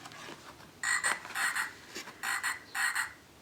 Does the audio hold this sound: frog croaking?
yes